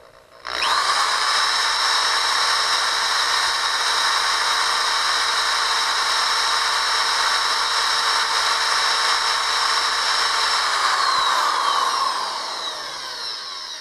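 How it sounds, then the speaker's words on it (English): A power drill with a carbide bit whines steadily at high pitch, grinding into a broken metal screw in a Craftsman leaf blower for about twelve seconds, then winds down. "more carbide, carbide drill. Drill, one, two, three."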